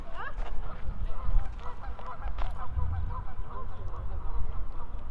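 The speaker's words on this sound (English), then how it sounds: "Geese fight in the background." Geese honking and squabbling in a fight, harsh repeated honks and quacking calls overlapping in the background over a rumbling outdoor backdrop.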